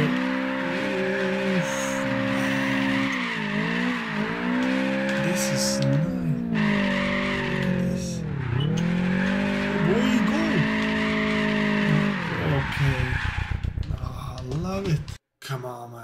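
Car engine in the racing video game Apex Point, a loud continuous whine that climbs and falls in pitch as it revs through gears, with tire squeal.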